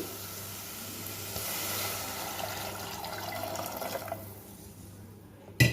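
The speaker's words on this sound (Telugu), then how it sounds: "మూడు గ్లాసుల నీళ్ళు పోసుకోవాలి" Water poured into a pot for tomato rice makes a continuous rushing, splashing wash for about four seconds before it tails off into quiet, ending with a small knock.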